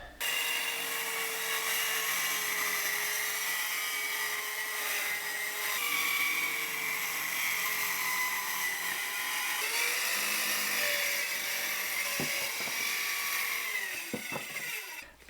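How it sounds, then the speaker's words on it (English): A circular skill saw cuts through wood for a set of DIY saw horses, making a loud, sustained whine with shifting tones across the full cut. The motor winds down sharply at the end. "I'm going to use a skill saw to cut that out"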